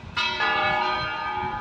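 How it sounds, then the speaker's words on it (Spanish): Church bells beside a river ring out clearly, two strikes in quick succession blooming into a loud, sustained metallic hum. "Me encanta oír las campanas."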